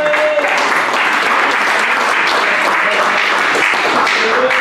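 A church congregation claps in praise at a live evening worship service, steady dense clapping filling the room loudly throughout, with faint voices mixed underneath.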